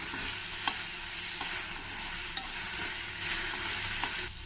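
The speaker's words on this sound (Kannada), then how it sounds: "ಇದೆಲ್ಲಾನು ಇನ್ನೊಂದು ಐದು ನಿಮಿಷ ಚೆನ್ನಾಗಿ ಫ್ರೈ ಮಾಡಬೇಕು" Malabar spinach leaves fry with chillies, garlic and black pepper for a tambuli, giving a steady close sizzle with a few light taps of stirring and no talk.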